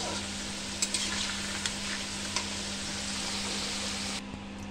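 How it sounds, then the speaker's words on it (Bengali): Potato pieces fry in oil with a soft, steady sizzle, punctuated by a few light clinks and stirring taps; the sizzle continues faintly and evenly without speech. "তো এখানে আমার আলু বেশ লাল লাল করে ভাজা হয়ে গেছে"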